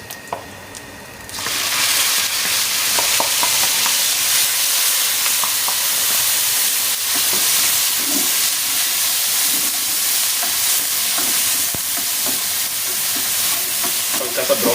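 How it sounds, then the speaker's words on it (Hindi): Onions dropped into hot oil with roasting cumin for an egg masala curry, a loud steady sizzle bursting in after a quiet start and hissing continuously to the end, with faint stirring clinks. "इसके बाद इसके अंदर हम डालेंगे प्याज"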